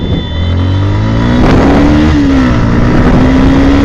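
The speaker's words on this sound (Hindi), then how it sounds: "हम जब भगाते हैं इस बाइक को आप देख सकते हैं स्मूथ की तरह लगता है।" A Yamaha R15 v2 sport bike engine revs up loudly on the road, its pitch climbing steadily with a buzzy, close, continuous drone and no talking.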